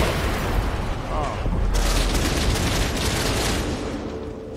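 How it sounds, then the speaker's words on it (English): Dense bursts of distant gunfire and booming shots roll through a video game firefight, continuous and loud, with a voice talking over the shooting. "Shooting from distance."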